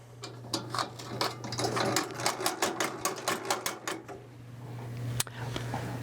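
A hand-cranked movie projector runs with a rapid, rhythmic mechanical clatter of regular clicks, heard close over a steady low hum. The cranking slows and falters near the end, and one sharp click stands out.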